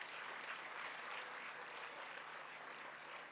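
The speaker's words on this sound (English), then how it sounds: "Can we also give him another round of applause?" Audience at an academic colloquium applauding after a keynote address, sustained even clapping from a large crowd heard at moderate level throughout.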